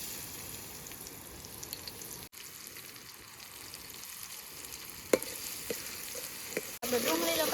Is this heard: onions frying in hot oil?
yes